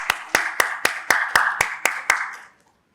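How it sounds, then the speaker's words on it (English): A few people clap for a panel speaker at a retail technology discussion, about nine evenly spaced, fairly sharp claps over two seconds that end abruptly, with no talking. "Please put a huge round of applause."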